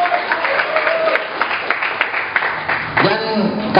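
Audience applause at a village workshop in Desa Surakarta, moderately loud clapping from a gathered crowd, uneven and slightly muffled, with a sharper burst near the end and voices mixed in.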